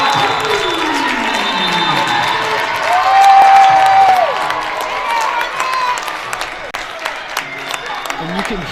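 A gym crowd at a Saline vs Bedford girls varsity high school basketball game cheers and applauds after a three-pointer, a swelling roar with whoops and claps that fades into scattered noise.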